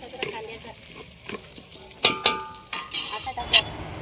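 Onion frying in a pan for spiced rice, being stirred to brown, with a soft sizzle broken by sharp clinks and scrapes of a utensil against the pan; no talk.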